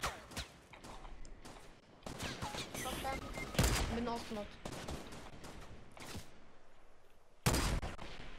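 Bursts of automatic and single-shot gunfire crackle through a Fortnite match, sharp repeated reports layered with echoing impacts, some close and loud, others more distant, while players talk over the action.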